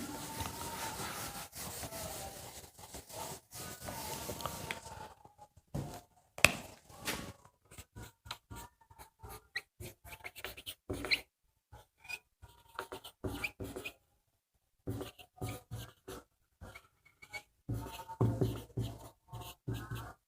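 Chalk or marker writing a heading on a board in a Class 10 physics lesson on light, scratchy strokes in short irregular bursts with pauses, fairly faint and close, no talking.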